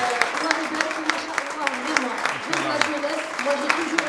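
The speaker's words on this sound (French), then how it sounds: "Franchement, je demande des applaudissements," An audience applauds at a gathering, with a dense wash of scattered clapping running steadily throughout while voices speak and call out over it.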